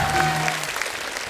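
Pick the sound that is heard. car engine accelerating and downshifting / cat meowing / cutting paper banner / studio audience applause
studio audience applause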